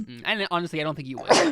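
A sharp, breathy sneeze lands right after someone talks in a relaxed voice, loud and close at the end.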